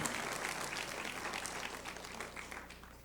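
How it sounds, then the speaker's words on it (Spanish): Congregation at a church general meeting breaking into sustained applause, a dense, steady wash of many hands clapping that holds at an even level throughout. "Dele un aplauso al Señor."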